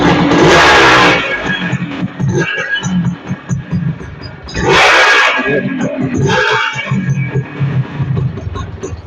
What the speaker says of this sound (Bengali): গাড়ির সাউন্ডটা কিন্তু অনেক সুন্দর আপনাকে একটু শোনান